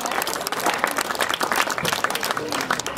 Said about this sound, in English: Well, come on, that deserves a round of applause.